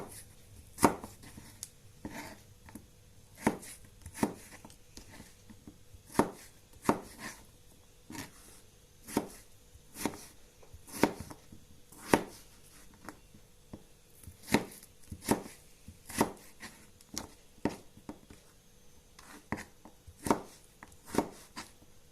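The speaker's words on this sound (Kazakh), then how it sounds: "Бұған картошкамызды ұзынырақ қылып тураймыз." A knife cuts potatoes into long strips on a board, roughly twenty sharp, evenly spaced chops ringing out close and clear over quiet room tone, no voices.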